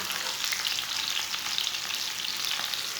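Okra frying in a pan as a spoon stirs it, a dense, bright, continuous sizzle heard up close with faint scraping movements and no speech.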